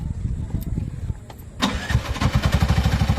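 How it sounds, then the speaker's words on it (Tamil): An auto rickshaw engine cranks and catches, then settles into a rapid, chugging idle pulse. The sound is close and loud, with faint voices underneath at the start. "இப்போ என்ன பண்ணுங்க ஆன் பண்ணிட்டீங்க இப்போ ஸ்டார்ட் பண்ணுங்க"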